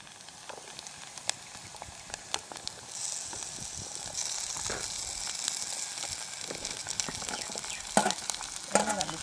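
Green chilies, onion and cut jackfruit sautéed and stirred in a village kitchen pan, quiet scraping and clinks at first, then a louder continuous sizzle with repeated stirring knocks.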